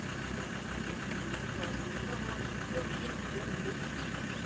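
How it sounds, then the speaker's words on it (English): A truck engine idles close by beside a parked car, a steady low rumble and vibration that holds evenly throughout without any change in revving. "It's having a running truck next to you."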